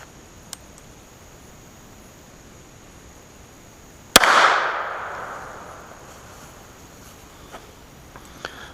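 A single sharp gunshot cracks out from a 290 NOE 45 Super load fired through a chronograph, loud and close, then rings out and fades over a few seconds in an otherwise quiet outdoor setting.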